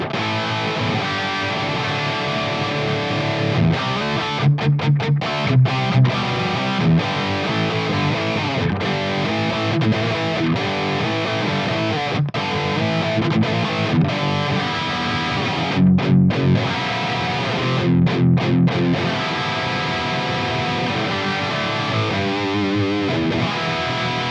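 Heavily distorted electric guitar through the Native Instruments Guitar Rig 7 "Tight and Crunchy" amp preset with a noise gate, playing crunchy chords and riffs with abrupt gated stops between phrases, loud and continuous with no talking.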